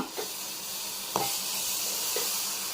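Rusk bread soaking in milk being stirred by hand in a pot, giving a steady soft wet swishing with three brief scraping knocks spaced about a second apart, heard alone without any talk.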